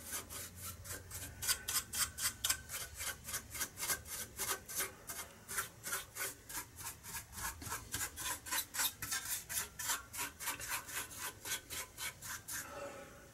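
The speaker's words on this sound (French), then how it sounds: "on va prendre des pinceaux à poil doux et on va frotter là, délicatement" Soft-bristled brush scrubbing dusty circuit boards inside a very dirty television terminal, a steady rhythmic series of close, raspy strokes running evenly for several seconds.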